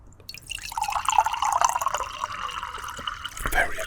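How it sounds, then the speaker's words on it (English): Water is poured into a glass outdoors, a close, bubbling trickle that rises in pitch as the glass fills, with a few drips and a small clink near the end. "I'm gonna pour in some water in my glass"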